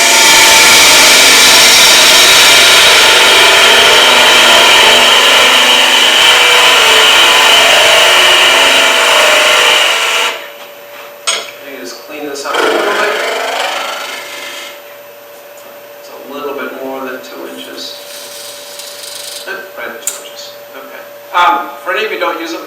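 A wood lathe turns a piece while a gouge cuts a 2-inch tenon, giving a loud continuous rasping scrape that stops abruptly midway, followed by quieter intermittent tool contact and handling noises.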